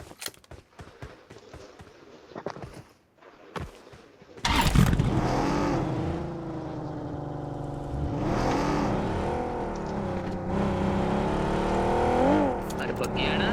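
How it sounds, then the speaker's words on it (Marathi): A car engine revs up and drives steadily in a multiplayer shooter match during paid scrims, sustained and fairly loud, with players talking over it throughout. "मी गाडी आणतो."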